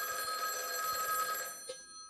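A telephone rings in a video game: a steady electronic ringing trill that holds for about a second and a half, then cuts off, leaving a faint short click.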